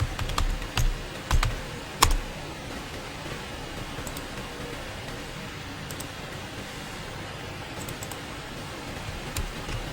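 Keystrokes on a computer keyboard while coding a Node app, a few sharp clicks early on, then sparse faint taps over a steady background hiss.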